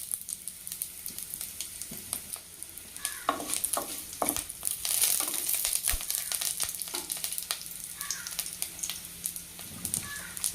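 Cloves, curry leaves, shahi jeera and cumin crackle and fry in hot oil in a pan, a steady close sizzle with scattered sharp pops and occasional stirring scrapes, no voices.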